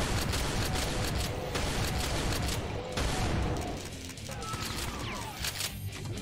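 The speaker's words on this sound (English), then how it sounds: "Who is shooting me?" Rapid gunfire rattles in a game of Brutal Doom, dense bursts of shots and impacts over a loud, continuous clatter that thins and grows sparser toward the end.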